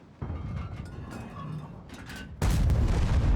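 Tank gun fire in World of Tanks, a T-103 tank destroyer battle: a sharp, loud boom at the start, then a rumbling engine bed, then a second heavy blast that holds as a dense roar to the end, with no speech.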